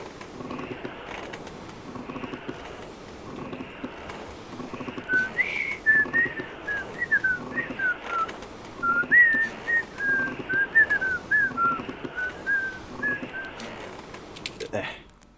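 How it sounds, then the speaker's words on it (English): A character whistling a wandering tune in the medieval game Kingdom Come: Deliverance, the melody rising and falling over a quiet ambient backdrop with soft clicks and someone talking at times. "Trying to whistle."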